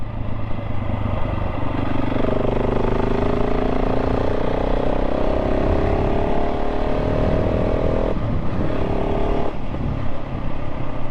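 A KTM 690 SMC-R motorcycle rides along tight, bumpy back lanes with some gravel, its engine loud and close, pitch climbing through repeated revving pulls and dropping between gear changes.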